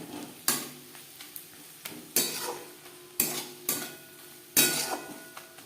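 Fish oil curry with chopped spring onion being stirred in a pan, a spatula scraping and clattering in sharp bursts every second or so over a faint sizzle, close and fairly loud with no talking.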